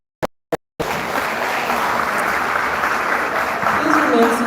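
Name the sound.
audience applause at awards ceremony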